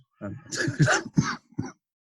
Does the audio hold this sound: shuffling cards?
no